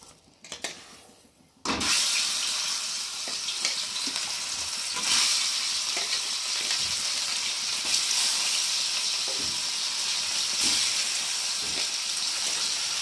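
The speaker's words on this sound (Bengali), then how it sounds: "আর দেখো এই যে একে একে মাছগুলোকে দিয়ে ভালো করে ভেজে নেব" Cut pieces of rohu fish drop one by one onto a tawa of hot oil, bursting into a loud, sustained hissing sizzle that swells with each added piece after a quieter opening.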